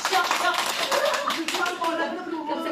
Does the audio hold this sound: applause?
yes